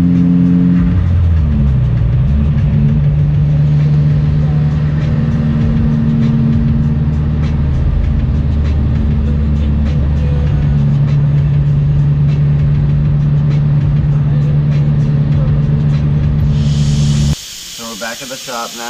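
A car drives along the road, heard from inside as a loud, steady engine hum and road rumble that shifts pitch early on as it accelerates, then cuts off abruptly near the end.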